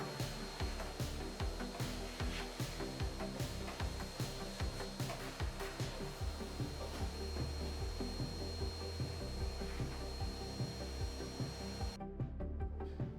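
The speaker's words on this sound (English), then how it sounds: "I had to use my vacuum and vacuum the insides" A handheld vacuum whirs steadily with rhythmic bumping and scraping as it moves over the insides of furniture drawers, then cuts off abruptly near the end.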